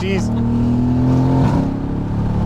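A powerful Mercedes-AMG GT S engine revs hard and holds a loud, steady roar up close, pitch rising and dipping briefly midway, heard from the passenger seat.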